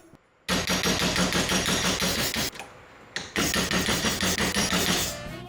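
A metal pipe clamped in a vise being punched with holes, giving long bursts of loud, rapid metallic rattling with brief pauses between runs.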